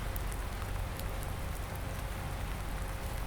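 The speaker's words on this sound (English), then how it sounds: "at least now with it raining" Steady rain falls in Farming Simulator 19 on the Porta Westfalica map during spring, a continuous broadband hiss with scattered droplet ticks, constant and even throughout with no voices.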